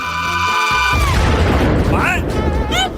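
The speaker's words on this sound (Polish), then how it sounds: "Myślę, że to była bomba cukierkowa!" A candy bomb goes off in a single loud boom after a rising electronic tone, followed by a dense burst of scattering, crackling debris, while excited voices and squeals rise over the aftermath.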